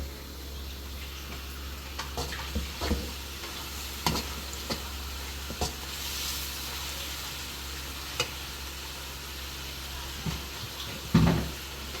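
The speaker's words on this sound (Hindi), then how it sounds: "अब इसको अच्छी तरह मिक्स कर लेंगे।" A soy sauce mixture sizzles in a pan over a constant low hum while a utensil stirs it, making intermittent clicks and scrapes, with one louder knock near the end.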